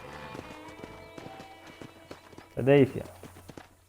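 Horse hooves clop at an easy pace in Red Dead Redemption on Xbox One, soft and rhythmic under a voice that speaks briefly near the end.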